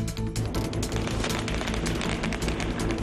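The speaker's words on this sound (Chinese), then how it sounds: "鞭炮声以及草席声，再加上跳钟馗赶煞，一路往出海口出发。" Strings of firecrackers crackle nonstop at a temple ritual procession heading to a river mouth, a dense, loud, rapid volley of bangs filling the whole stretch.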